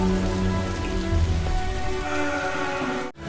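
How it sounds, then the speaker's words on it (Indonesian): Heavy rain pouring down onto surfaces, a dense, steady hiss and patter that stays loud throughout and then cuts off abruptly at the end, with no voices. "berjalan di bawah guyuran hujan"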